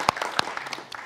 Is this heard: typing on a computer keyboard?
no